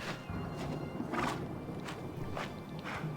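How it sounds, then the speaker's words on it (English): A horse in the video game Elder Scrolls IV: Oblivion Remastered whinnies in a breathy, wavering burst, with snorts and hoof-like thuds around it, moderately close and without talking. "That was the horse making that noise."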